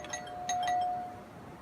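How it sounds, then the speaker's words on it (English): A house doorbell chimes alone, a short two-tone ding-dong at moderate distance, fading out with no talking. "Ring the doorbell."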